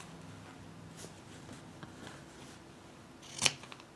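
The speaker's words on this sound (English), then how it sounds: "You know, and just snip." Scissors snip through layers of a calico flower rag quilt, a few soft cuts scattered through a quiet room before one sharp, close snip near the end.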